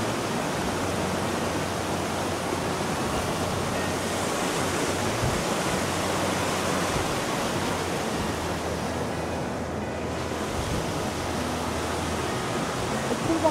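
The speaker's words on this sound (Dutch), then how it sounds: "De waterval." Steady, dense roar of rushing water from a waterfall, broadband and continuous at close range, with no clear voices over it.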